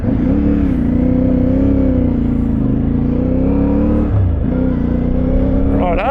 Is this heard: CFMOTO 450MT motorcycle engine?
yes